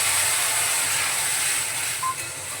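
Water poured into a hot pan holding curry leaves gives a loud, sustained hissing sizzle that fades slightly toward the end, with no voices.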